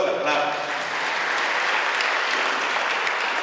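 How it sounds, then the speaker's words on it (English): An audience at an African institute launch event breaks into brief, dense applause, a steady roar of many hands clapping together at even loudness. "Give ourselves a clap."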